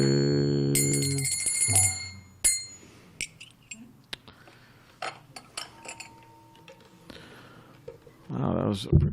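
A spiritual-sounding phone notification rings out like a gong, with sustained metallic bell tones at the start followed by scattered clinks and knocks, then a brief burst of noise near the end.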